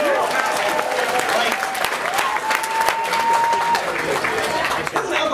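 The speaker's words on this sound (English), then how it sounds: "round of applause for alcohol" Applause rises from the comedy club crowd, dense clapping with scattered cheers and a whistle-like tone that holds for a moment, continuous for several seconds.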